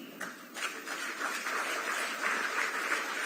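A crowd applauds at a ceremony where a chief minister hands appointment letters to community health officers. The clapping is steady and moderately distant, keeps going without a break, and grows slightly fuller as it continues.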